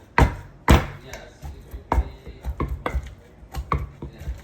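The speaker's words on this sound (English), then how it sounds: "So now I'm pounding the yam." Cooked yam being pounded for native yam soup, a series of heavy, close thuds, two strong blows followed by a steadier run of lighter rhythmic strikes with faint utensil knocks between them.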